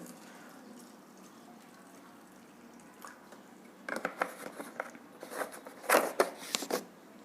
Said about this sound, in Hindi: पोहे में डालता हूँ पानी, जैसे कि हमारा पोहा जो है फूल जाए, सॉफ्ट हो जाए।